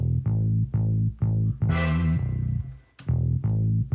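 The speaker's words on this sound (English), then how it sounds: "So the bass and the brass together sound like this." Short punchy brass stabs repeat in a steady rhythm over a deep bass note, with one longer wobbly swell in the middle.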